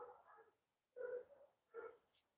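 A female dog gives three short, faint barks or yips spaced about a second apart, distant and quiet with no voices.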